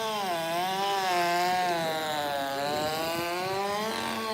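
A climbing rip saw cutting trees in Biddeford, Maine, its engine screaming loud and steady with wavering pitch as it bites into wood, no voices.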